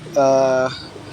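A single short, soft cooing call from a breeding pigeon, close by, lasting about half a second amid quiet background.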